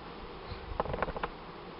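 Bees buzzing close by at a hive trap, with a short cluster of faint buzzes and clicks over a low, quiet background.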